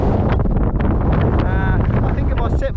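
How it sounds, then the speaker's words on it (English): Strong gale wind blowing across a beach where dry sand drifts over wet sand: loud, constant buffeting roar hitting the microphone, with someone talking through it. "Blowing a gale down here."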